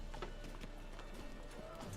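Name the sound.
Roach the horse's hooves, from the video game The Witcher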